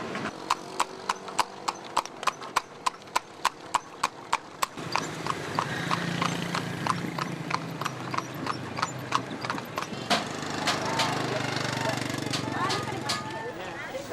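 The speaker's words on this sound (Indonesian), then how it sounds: "Sekarang saya pengen keliling-keliling kota Bukit Tinggi ini dengan menggunakan delman" A horse-drawn delman carriage clip-clops through the streets of Bukittinggi, a steady run of sharp hoof strikes up front that gives way to busier, denser street noise with hooves continuing underneath.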